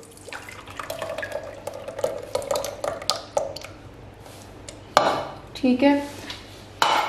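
Yogurt going into a bowl and being beaten for bottle gourd raita: wet plops and pouring, then clinks and scrapes of a utensil against the bowl, close by, with a brief spoken word.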